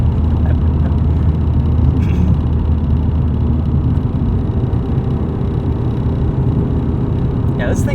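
Steady low rumble of a supercharged 1998 BMW E36 M3 engine cruising at a constant pace, a dense droning hum with faint whine that runs unbroken and close for the whole stretch, with no talking.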